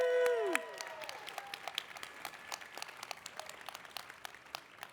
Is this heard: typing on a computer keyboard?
no